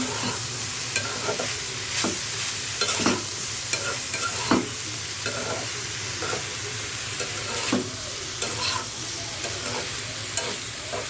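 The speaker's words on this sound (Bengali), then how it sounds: "এখানে হচ্ছে ফুলকপি আলু দিয়ে কাঁচা টমেটো দিয়ে একটা ভাজি করতেছি" Cauliflower, potato and raw tomato bhaji is stir-fried in a pan: a constant soft sizzle with irregular spatula scrapes and taps against the pan, fairly quiet and without speech.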